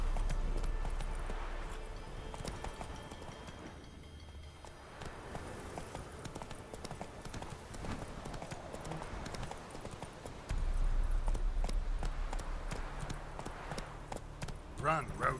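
A horse galloping in The Witcher 3 video game, steady rapid clip-clop hoofbeats running throughout, close and continuous, with a voice urging the horse on and game music underneath.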